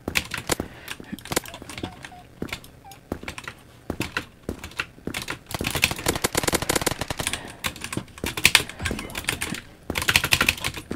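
Rapid, uneven computer keyboard typing, loud and close, with clustered bursts of clicking keys throughout.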